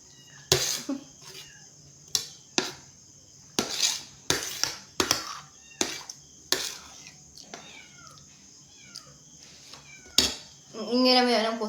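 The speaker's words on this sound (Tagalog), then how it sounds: "Ingay naman yan ang pusa ko." A pet cat meows in a quiet room, several short calls spread across the stretch with a longer, wavering yowl at the end, joined by a few clinks and small knocks nearby.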